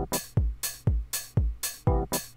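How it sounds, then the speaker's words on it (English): An electric piano lick plays along with a 909 drum machine beat, punchy kicks and bright hats repeating in a steady, even pattern. "And then we bring in a 909 beat with it."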